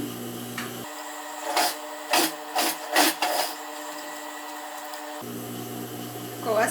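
Sewing machine topstitching close to the edge of a dress yoke, a steady motor whir at close range, interrupted by a few short rough bursts of stitching or fabric handling before the hum resumes.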